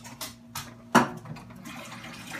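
Ten ounces of water pour into a mason jar in a few short splashy bursts, one louder gush near the middle, then a softer trickle.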